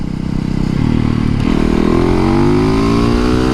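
A supermoto motorcycle on tubeless wheels accelerates hard past slow cars, its loud engine note climbing steadily in pitch through the run.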